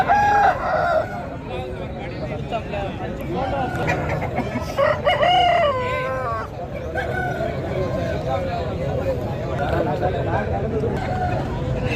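Crowing from an Aseel rooster at a crowded Saturday bird market carries through heavy background babble, with several call bursts and someone speaking nearby.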